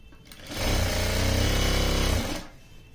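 A sewing machine runs in one steady, close, buzzing burst of about two seconds while stitching lehenga fabric, then stops.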